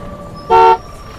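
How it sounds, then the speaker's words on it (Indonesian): A bus horn honks once as the bus arrives, a single loud, clear toot lasting about a quarter second against a quiet background. "akhirnya bus yang aku tunggu lewat juga"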